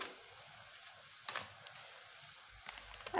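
Ground coriander and cumin sizzle in a pan with mung dal, a soft steady frying hiss with a couple of brief stirring scrapes, quiet and close with no voices.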